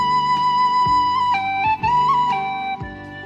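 A tin whistle played well, giving a smooth, steady melody of clear sustained notes with ornamented transitions, close and fairly loud, heard alone.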